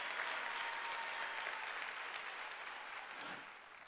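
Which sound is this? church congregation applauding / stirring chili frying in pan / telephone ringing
church congregation applauding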